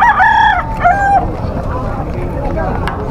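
At the Bocaue tiangge market, where roosters are sold, a loud nearby rooster crows twice at the start, drawn-out and close, then fades into a low market murmur with a faint distant crow later.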